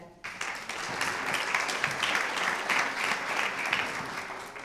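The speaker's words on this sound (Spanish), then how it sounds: "así que un fuerte aplauso para Caro" Conference audience at a 2019 event applauding a speaker as she takes the stage, a sustained even wash of many hands clapping, swelling after a brief quiet start and holding steady.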